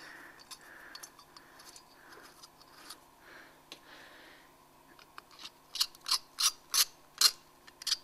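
Clicking and ratcheting from tightening the jet adjustment on the carburetor of an MG, a series of sharp close metallic clicks that grow louder toward the end after a stretch of quieter fiddling.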